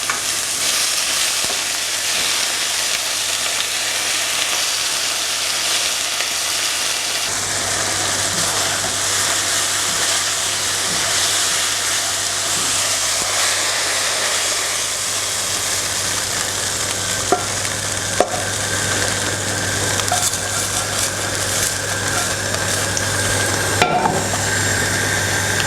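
Beef frying and sizzling in a pan while it is stirred, a steady broadband hiss running throughout with occasional scraping clicks and a constant low hum underneath, close and loud with no talking.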